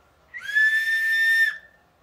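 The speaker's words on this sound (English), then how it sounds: "This is a whistle." An antique bisque porcelain figurine whistle gives one clear, sustained high-pitched note lasting about a second, close up and alone.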